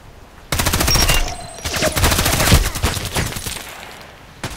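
Sig Sauer MPX submachine gun firing in the shooter game Contract Wars: a rapid, loud automatic burst of evenly spaced shots lasting about a second, a brief pause, then another long burst fading into a short tail.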